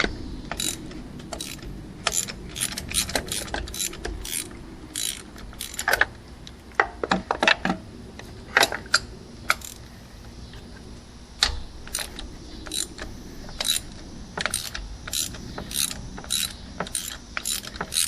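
A ratchet breaks spark plugs loose on a Chrysler PT Cruiser, giving repeated sharp clicking bursts in quick runs with short pauses, close and clear with no talk.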